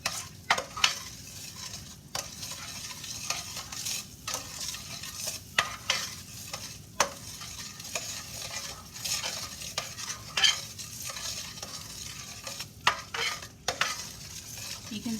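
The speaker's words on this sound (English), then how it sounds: "We still have to be stirring constantly and cook this for 3 minutes." Caramel apple dip cooks at a low boil in a pot while a spoon stirs it constantly, soft bubbling and simmering under repeated scraping strokes and occasional clinks of the utensil against the pot.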